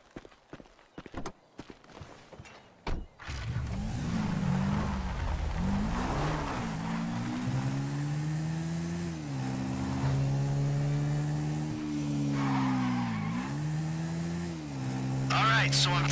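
A car in the video game GTA 5 drives along with a loud, continuous engine drone whose pitch rises and dips as it revs and shifts, following a few sharp clicks and knocks at the start.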